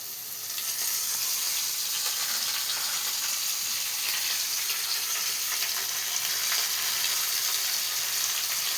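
Leafy greens hitting a pan of browned ingredients and frying, producing a loud continuous hissing sizzle that holds steady from start to finish.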